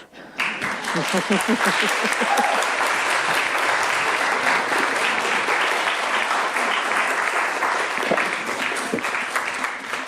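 An audience at a 2023 school board candidates debate in Montclair breaks into steady applause, a dense, sustained clapping that starts abruptly and holds at a fairly even level before thinning slightly at the end.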